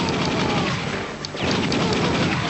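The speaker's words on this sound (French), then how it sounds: "ce que je fais c'est que je tire un peu en rafale et j'essaie pas d'être très précis" Rapid gunfire bursts from the light-gun arcade game Time Crisis Project Titan on PlayStation, a dense, continuous barrage of loud shots and booms with no clear gaps.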